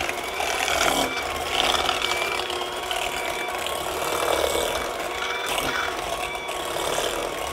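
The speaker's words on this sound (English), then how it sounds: "I love this mixer." An electric mixer runs steadily in a deep bowl while cookie dough is made, a sustained mechanical whir with a grinding, ratchety texture and whining tones, fairly loud and unbroken throughout.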